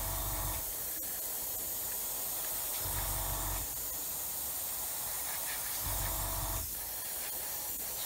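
Steady airbrush hiss with brief bursts of spray starting and stopping while painting a 1/144 scale Saturn V model, close and fairly quiet, no voices.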